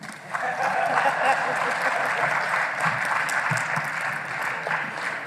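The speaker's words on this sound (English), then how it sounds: "We have clapped for the CEO on the eve of the 29th of May." An audience at a media briefing giving the CEO sustained applause, dense and steady throughout.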